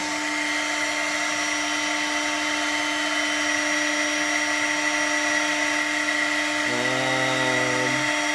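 A CNC router spindle spins at 18,000 RPM with a steady, high-pitched electric whine and an even hum beneath it. A brief lower tone enters near the end.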